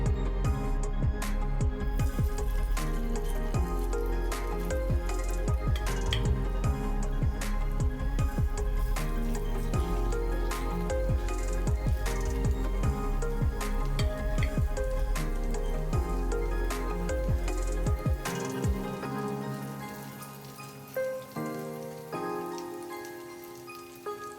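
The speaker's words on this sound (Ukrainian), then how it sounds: "Перекладає його на сковорідку, формую оладки." Dense crackling and spattering of zucchini fritter batter frying in a hot pan, steady and close, before the sizzle drops away near the end.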